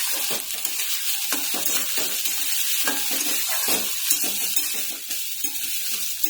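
Dried red chillies and tomato with asafoetida stirred in a hot pan, a steady hiss of frying with frequent light scraping and tapping of a spoon, close up and without speech.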